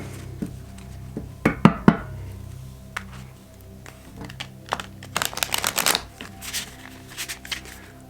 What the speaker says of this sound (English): I'm gonna shuffle this for a while to get a good mix